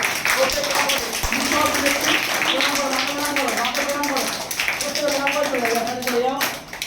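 Audience clapping at a district taekwondo championship medal ceremony: a steady patter of hands runs under continuous talking voices.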